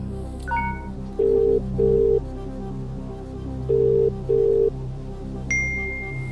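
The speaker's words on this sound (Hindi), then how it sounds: "कंप्यूटर जी, मिकेश को फोन लगाया जाए।" An electronic tone beeps in two pairs, then a brief high chirp, with a steady low hum beneath, as a phone call is dialed on a TV quiz show set; no voices.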